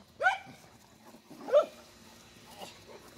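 A big dog barks twice about a second apart, fairly close and moderately loud, with a fainter third bark trailing off near the end; no talking in between.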